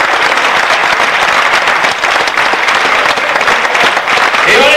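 Loud, sustained applause from an audience after a brilliant demonstration, dense clapping filling the whole stretch without a break.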